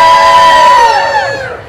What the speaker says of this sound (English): Go ahead, yell wee!